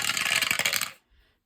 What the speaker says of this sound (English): So we'll roll the 8-sided dice.